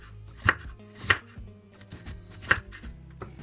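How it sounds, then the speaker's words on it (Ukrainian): A knife slicing an onion on a board, three distinct sharp chops spaced unevenly over a few seconds with soft cutting sounds between, close and alone. "І теж нарізаємо скибочками."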